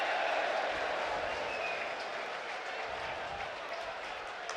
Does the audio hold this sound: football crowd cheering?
yes